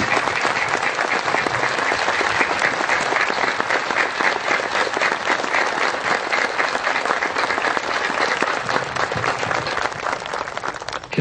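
A church audience breaks into strong, sustained applause, dense clapping from many hands that holds steady for about eleven seconds and then begins to thin out at the end.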